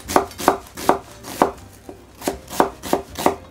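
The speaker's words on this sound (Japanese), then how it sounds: "玉ねぎは小さめのものだったら半分にして薄切りです" A knife slices a small halved onion thinly on a cutting board, nine crisp evenly spaced chops close by and alone with no talk.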